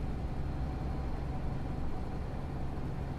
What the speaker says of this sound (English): The truck exhaust sound level was too predominant.